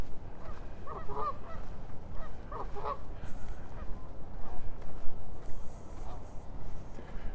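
Geese honk on a partly frozen lake in Regina in March, near a patch of open water. A few bursts of honking calls rise over a steady outdoor rumble, moderately close.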